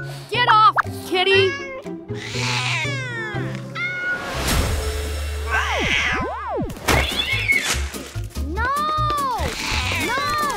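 A cartoon cat meows repeatedly in high, bending cries, mixed with playful animated sound effects, boings and thunks, loud and close throughout.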